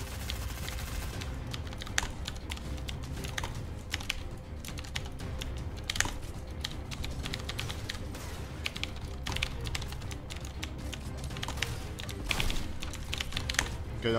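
Rapid, steady clatter of a typewriter standing in as a keyboard for a video game, with dense irregular keystrokes close up and a few sharper louder strikes scattered throughout.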